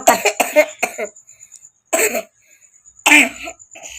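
A child coughs in several short, harsh bursts, pausing between fits; a few are clustered close together, then two more separate coughs follow.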